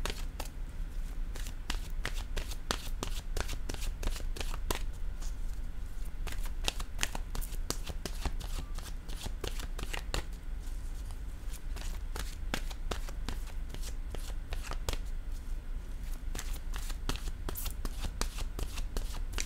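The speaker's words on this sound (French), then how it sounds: "Je vais maintenant choisir une carte de mon oracle de l'âme intuitive." Oracle cards being shuffled by hand, a long run of quick papery riffles and flicks in an irregular rhythm, close and fairly quiet, with no voice over it.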